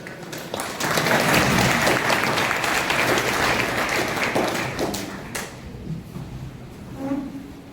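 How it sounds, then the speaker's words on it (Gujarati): Audience applause welcoming a speaker onto the stage at a college mother-language festival in Mangrol, loud and sustained for about five seconds, then fading into scattered claps and brief murmurs. "જોરદાર તાળીઓથી આપણે દીપકભાઈ જગતાપ સાહેબનું સ્વાગત કરીશું."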